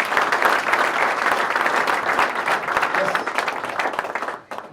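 An audience at a company launch event gives dense, sustained applause, loud and close, with scattered voices underneath, before it drops away abruptly at the end.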